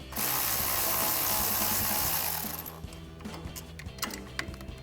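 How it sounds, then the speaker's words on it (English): A ratchet fitted with a 10 mm socket loosens an upper control arm bracket bolt during a front strut leveling kit install, giving a fast continuous clicking run that stops abruptly, followed by a few scattered metallic ticks and handling noises. "So we'll take that 10 millimeter socket to remove this bolt."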